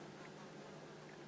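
A housefly buzzes indoors, giving a faint, continuous drone with a steady tone and no voices.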